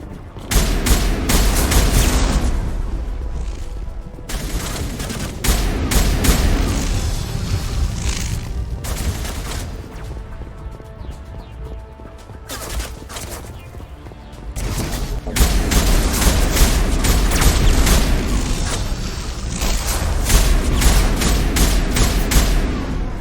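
Heavy, sustained gunfire from a large gun in the Mass Effect video game booms and rattles in dense bursts over the whole stretch, loud and close, dipping briefly in the middle before surging again.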